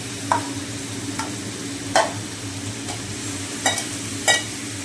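Chicken sizzles steadily in a hot pan with fried onion and tomato while a utensil scrapes and clanks against it in several short, uneven strokes.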